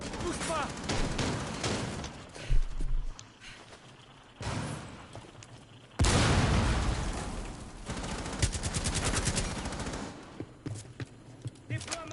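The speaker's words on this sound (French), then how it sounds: "Cache-toi, il tire à l'aveugle." Gunfire in the PS4 shooter Rainbow Six Siege, with bursts of rapid automatic shots and loud single cracks that come and go over about twelve seconds, mixed with game effects and occasional talk.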